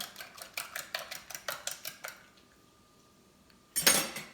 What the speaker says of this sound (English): Let me aerate the eggs one more time.